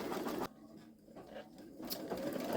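A Baby Lock Solaris embroidery machine stitching out lettering on a T-shirt, a steady close mechanical whir with rhythmic needle chatter that dips briefly before resuming at full pace.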